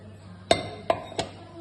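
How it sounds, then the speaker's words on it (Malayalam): Three sharp cracks, evenly spaced, as eggs are tapped against the hard rim of a bowl in a quiet kitchen. "ഒരു 5 മുട്ട പൊട്ടിച്ച് വെച്ചുകൊണ്ട്"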